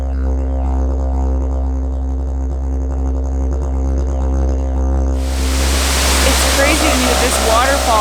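Water from a seasonal waterfall pours over a cliff in a Costa Rican jungle near a volcano, a loud steady roar. Its hiss swells sharply after a few seconds, and a voice speaks over it.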